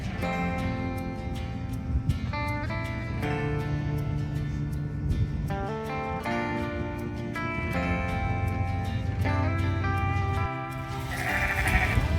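Several sheep bleat repeatedly, loud and close, their calls overlapping continuously against a dull background rumble.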